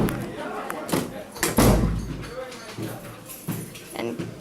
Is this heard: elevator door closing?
yes